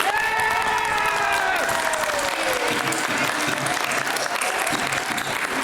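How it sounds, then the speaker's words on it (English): Loud, steady applause from a school musical audience, sustained throughout, with whoops and cheering voices rising over the clapping near the start. "Stop clapping."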